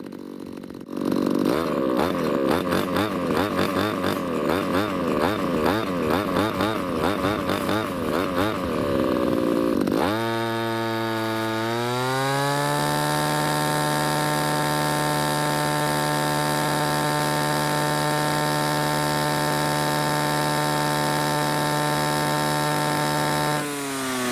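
A brush cutter engine dosed with Fuel One is revved to full throttle. It buzzes loudly and unevenly at first, then settles into a steady, high-pitched whine at maximum RPM that holds without a break. No one speaks.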